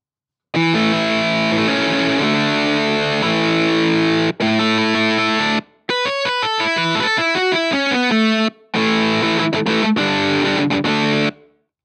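Electric guitar played through heavy distortion with a MusicLab RealEight virtual instrument and Amplitube 4 Mesa and Orange amp models, loud sustained chords and a short melodic run with brief gaps between phrases, no talking.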